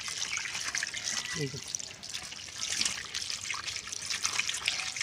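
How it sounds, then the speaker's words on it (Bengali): Cold water poured over freshly boiled pasta in a kitchen, a steady close trickle and splash running throughout with slight surges, no talk. "ঠান্ডা জল দিয়ে এইভাবে ধুয়ে নিতে হবে।"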